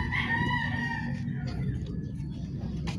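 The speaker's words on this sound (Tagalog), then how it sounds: "Wildlife, may ibon." A bird, likely a rooster, crows at the Ninoy Aquino wildlife park: one drawn-out harmonic call near the start, over steady outdoor background noise.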